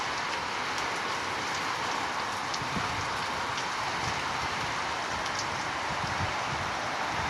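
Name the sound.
heavy rain outdoors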